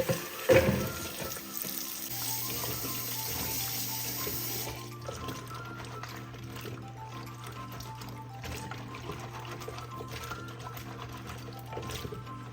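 Fresh okra is dumped into a bowl of water in a kitchen and washed, with a splash at the start followed by steady, low sloshing and faint water noise under a constant background hum.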